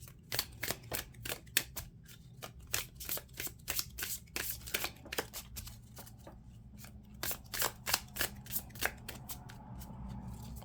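Oracle cards shuffled by hand in a quiet room: crisp riffling bursts come in quick irregular runs, close and distinct against a faint low hum.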